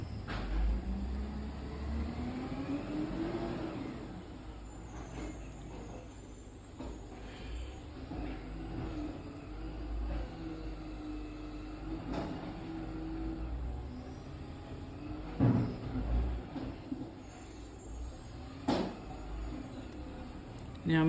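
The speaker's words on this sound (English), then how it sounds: "The garbage truck is here. It's quite loud." A large garbage truck on bin day rumbles and idles nearby outside with low engine drone, hissing brakes and a few clanks and bangs, steady and fairly loud.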